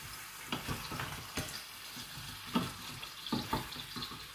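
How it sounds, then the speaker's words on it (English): Squirrel meat stirred and browned in a pan, a soft steady sizzle broken by intermittent clinks and scrapes of stirring, close by and fairly quiet, with no talk. "Keep stirring this. Get it nice and browned off."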